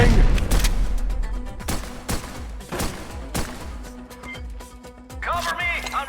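Dense video-game gunfire from Pioner rattles in rapid bursts of sharp shots, loud and close, thinning out before a voice shouts over the end.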